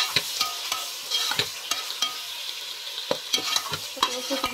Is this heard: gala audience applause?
no